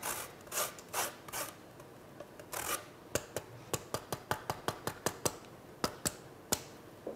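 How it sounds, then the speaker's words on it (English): Lemon zest grated on a hand grater for lemon mayonnaise, soft rasping strokes at first, then a quick series of crisp scraping taps, quiet and close with no talk. "Just on your grater, we're going to put in some lemon zest."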